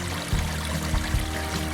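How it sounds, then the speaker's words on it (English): Water pours steadily through a gold mining highbanker and its grizzly, a continuous rushing flow with a few low thumps, close by and with no voices. "it looks like the water flow is about right for the grizzly"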